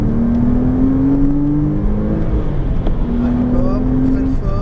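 A Porsche Cayman S engine at full throttle on the Chenevières race circuit, a loud sustained drone climbing steadily in pitch, dropping back, then rising again, with an instructor talking over it throughout.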